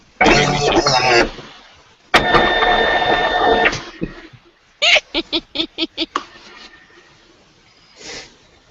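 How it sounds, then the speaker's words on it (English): An ID card printer runs in bursts: a long mechanical whir, then a second whirring pass with a steady tone, followed by a rapid series of short clicks and a faint final click, close by with no talk. "it's my ID card printer."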